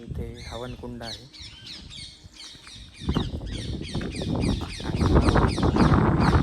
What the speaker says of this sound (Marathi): पक्ष्यांचं गोंगाट या ठिकाणी अत्यंत सुंदर असा आवाज येतो पक्ष्यांचा